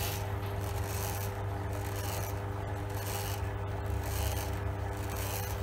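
A lathe turns slowly at about 40 RPM while winding a steel spring, a steady low mechanical hum under a continuous rasping, rubbing scrape, close and moderately quiet with no talking.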